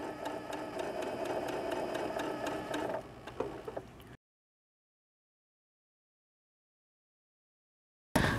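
A Janome Continental M7 sewing machine runs steadily while stitching curved quilt piecing, giving a close, continuous mechanical whir with a fast needle rhythm for about three seconds, then slowing and stopping into silence.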